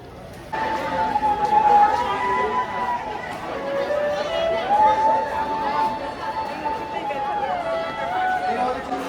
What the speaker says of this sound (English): this is the crowd which is heading towards the Suruchi Sangha